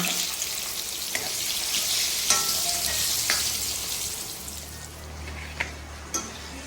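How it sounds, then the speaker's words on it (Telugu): Drumstick pieces frying in hot oil, a steady close sizzling hiss throughout with occasional sharp pops and light stirring clicks. "నేను ఎప్పుడు ములక్కాయలు కూడా నూనెలో వేయించుకుంటా"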